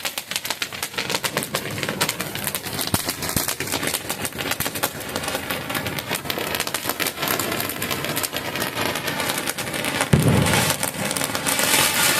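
A bat-shaped Diwali firecracker going off, giving a dense, continuous crackling and popping that stays loud and steady for over ten seconds, with no voices.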